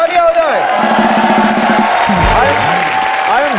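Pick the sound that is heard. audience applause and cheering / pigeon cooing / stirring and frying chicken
audience applause and cheering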